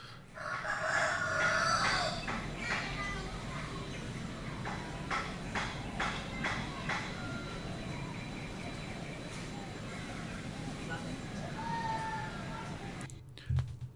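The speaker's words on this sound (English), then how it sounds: "Village quiet, children voices," Hens cluck and a rooster crows in a quiet village, fairly distant against a soft outdoor ambience, with children's voices faintly in the background.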